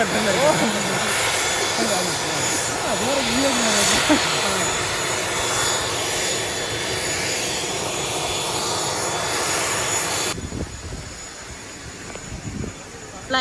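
A just-landed airliner roars loudly with steady broadband engine noise for about ten seconds before dropping to a lower rumble, with people talking nearby.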